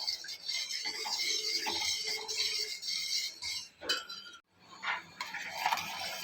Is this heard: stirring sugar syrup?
yes